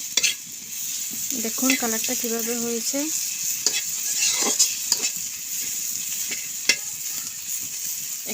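Dried sea fish (shutki) fries and is stirred in a pan, a steady sizzle running throughout with scraping stir strokes and brief utensil knocks against the pan, while a person talks briefly.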